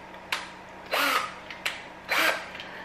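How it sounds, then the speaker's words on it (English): A power drill whirs in two short bursts, each preceded by a faint click, biting into a plastic coffee creamer container lid up close against a low steady hum. "With the drill, you're going to drill in the clockwise direction until the teeth make contact with the top."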